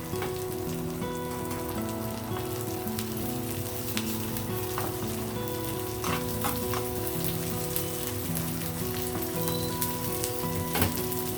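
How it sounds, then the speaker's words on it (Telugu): Curry leaves and coriander fry in oil for a chana dal curry, a dense steady sizzle with scattered pops and crackles and occasional stirring knocks, close and continuous, over a faint background tone, no talking. "కరివేపాకు కొత్తిమీర కొంచెం వేగాలి"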